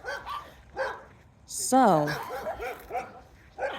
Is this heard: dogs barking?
yes